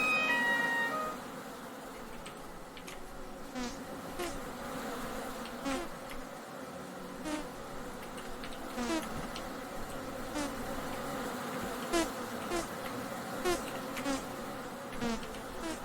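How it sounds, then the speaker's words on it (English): A swarm of bees in the video game Vintage Story hums continuously at low volume, the buzzing rising and falling in small pulses for about fifteen seconds without speech. "More bees!"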